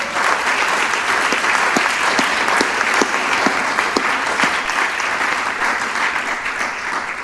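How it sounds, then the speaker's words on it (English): A room of attendees at a school district board meeting gives a round of applause for the board members, steady dense clapping lasting several seconds, loud and close, with no speech over it. "Why don't we give them a quick round of applause?"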